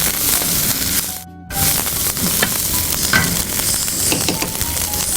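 Vegetables and spring onions stir-frying in a pan for sandwich dosa, a steady loud sizzle with scraping stirs, broken by a brief near-silent gap early on.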